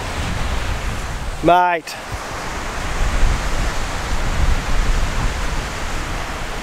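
Wind blowing steadily across an empty beach, a broad continuous rush with no letup, briefly interrupted by a short spoken word partway through.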